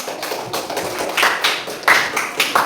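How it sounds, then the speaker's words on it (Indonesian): A classroom of students claps together, a loud, close run of irregular hand claps in uneven bursts that swell and fade over a few seconds with no talk. "Tepuk tangan untuk kita semua."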